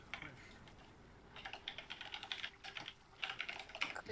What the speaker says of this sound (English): Tin Delacroix is typing.